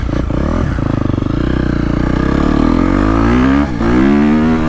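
A 2022.5 KTM 250SXF Factory Edition dirt bike is ridden close by, its four-stroke engine buzzing loudly and revving up through the gears with a brief dip at a shift.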